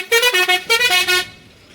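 A lorry on a road blasts a rhythmic series of loud, close horn toots in two quick bursts, then cuts off and leaves faint background.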